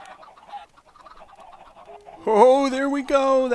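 Chicken clucking from a video game, first low and faint under quiet background sounds, then a louder pair of harmonic squawking calls near the end.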